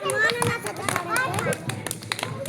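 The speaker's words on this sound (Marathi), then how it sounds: "वाजवा रे टाळ्या छान छान." Young schoolchildren in a first-grade class clap in quick, uneven bursts of sharp slaps close by, mixed with a teacher's and children's chatter.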